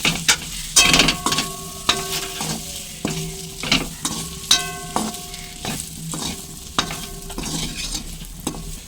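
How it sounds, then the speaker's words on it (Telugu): Mutton liver fry being stirred with chili powder in a pan, a spatula scraping and clinking in an irregular rhythm over a steady sizzle, close and clear with no talk. "అలాగే కారం కూడా వేసుకొని మిక్స్ చేసుకోండి."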